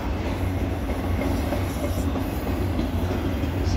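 A CSX autorack freight train, one car a vintage Burlington Northern, rolls past close by in snow with a loud, continuous wheel rumble and a faint high squeal.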